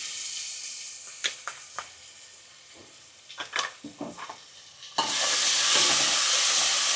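Green chili paste drops into a hot pan for Gujarati green pigeon pea kadhi: a quiet stretch with several sharp spoon taps and clinks, then a sudden loud, steady sizzle that carries on to the end.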